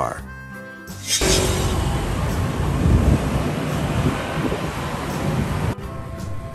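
A car passes as a broad, steady roar that rises suddenly after a second, holds for several seconds, then drops off sharply near the end.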